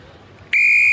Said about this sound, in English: The whistle signifies the start of this Pool B game.